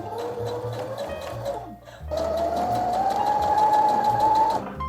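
Sewing machine stitching a trouser seam, loud and close with a steady whirring hum and rapid needle ticking, pausing briefly midway before running again at slightly higher speed.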